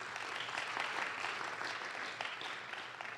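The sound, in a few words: audience applause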